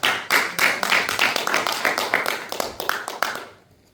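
A church congregation applauds together in a dense, lively burst of clapping that lasts several seconds and then fades quickly into quiet.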